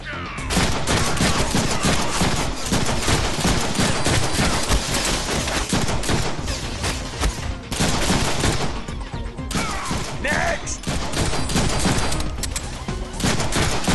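Sustained, loud gunfire in the Deadpool 2 video game, with dense rapid bursts of shots and automatic fire filling the whole stretch almost without pause.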